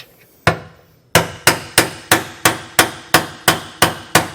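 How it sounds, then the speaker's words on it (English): A hammer drives a bolt head into a leaf spring hanger while a Roadmaster Comfort Ride suspension kit is installed: eleven sharp metallic blows, mostly in a steady rhythm, loud and close. "It's important to drive the head of this bolt in to make sure that the bolt is seated correctly"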